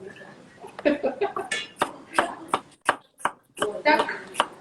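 Knife chopping food on a large cutting board set on an induction hob, a run of sharp, irregular close taps and thuds, with speech heard around them.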